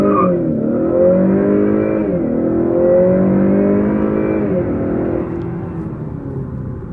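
A 2019 Honda Accord accelerating hard from a standstill on all-season tires with lowered tire pressure, its loud engine climbing steadily in pitch through repeated gear changes before the drone eases off near the end.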